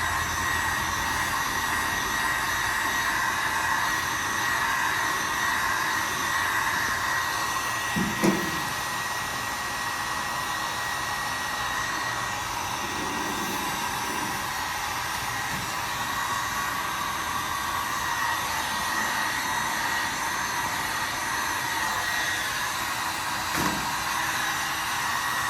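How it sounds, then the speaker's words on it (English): A heat gun blows hot air onto a car dash cover in a steady loud whooshing hiss that runs on without a break, with a couple of faint knocks and a short rustle of handling beneath it. "that heat gun makes all the difference in the world"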